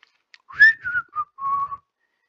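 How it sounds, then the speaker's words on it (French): A man whistles a short tune of a few quick notes, clear and close, ending with a longer held note. "À 8 heures, Benoît ouvrit la boutique en sifflotant."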